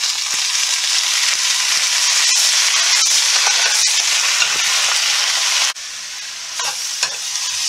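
Mustard greens stir-fried in a hot wok with garlic and cooking wine, giving a loud continuous sizzle with scraping stir strokes and a brief drop partway through.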